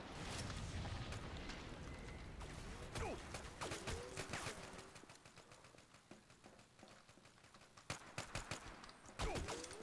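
Rapid bursts of video-game gunfire in Garry's Mod, dense sharp shots clustered at the start and again near the end, with scattered single cracks between and faint game noise underneath.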